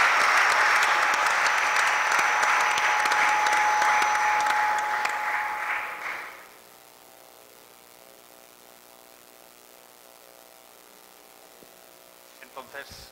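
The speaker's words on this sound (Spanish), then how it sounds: "vamos a darle un fuerte aplauso" A conference audience at a cultural centre gives loud, dense applause that holds steady for about six seconds before fading quickly into quiet room tone, with a few faint handling noises near the end.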